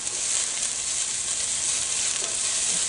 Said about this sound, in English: Some sliced onions in our hot pan with olive oil.